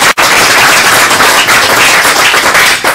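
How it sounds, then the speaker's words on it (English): Audience at a one-place studies society annual general meeting giving a loud, dense round of applause that carries on steadily throughout, close and with no talking over it. "a round of applause is the least we can do at this meeting to acknowledge the work that they've done"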